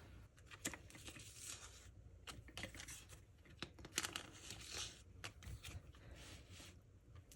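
Photocards being slid into plastic sleeves, with close crinkling, rustling and scraping of thin plastic in irregular bursts and a sharp handling noise at the end, with no talking.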